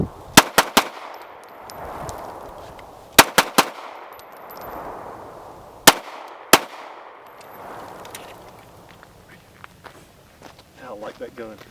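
Glock 19X pistol firing in sharp outdoor bursts: three groups of two to four loud, close cracks spaced over several seconds, with a rough wind or ambient hiss between them.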